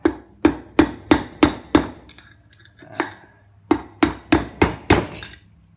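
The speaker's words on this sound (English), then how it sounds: "You can get behind the bearing if you push in like this, and just got a rubber mallet." Rubber mallet knocking a wheel bearing out of a tractor dump cart wheel, one flathead screwdriver wedged behind it: a close, loud run of six sharp, evenly spaced blows, a brief pause with one more hit, then five more in steady rhythm.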